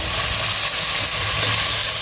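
Onions hit hot oil with whole garam masala and cumin seeds, giving a loud, steady, dense sizzle that fills the whole moment with no pauses and no voices.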